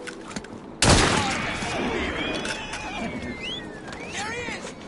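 A sudden loud gunfire volley erupts in Assassin's Creed Syndicate, a sharp burst that rolls into a sustained noisy roar with faint whistling tones, after a quiet stretch.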